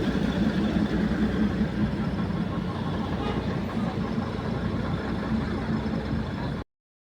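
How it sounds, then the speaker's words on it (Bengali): The Darjeeling toy train engine idles in a steady, low rumble close by, holding an even drone for several seconds before cutting off abruptly. "এই এটা ইঞ্জিনটা"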